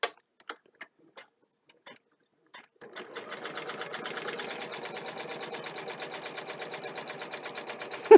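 Sewing machine doing free sewing at a craft session, a few light clicks and taps first, then a steady fast mechanical chatter of stitching that runs close and loud for the last five seconds.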